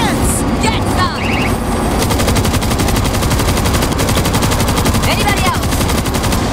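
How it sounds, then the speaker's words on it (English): An installed machine gun in the zombie shooter World War Z fires without pause. The loud, dense, rapid rattle runs nearly the entire stretch, with shouted game voices briefly mixed in. "Machine gun installed!"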